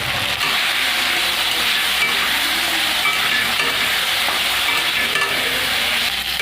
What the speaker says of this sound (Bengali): আলু আর উচ্ছেটাকে আমি ভালো করে ভেজে নেব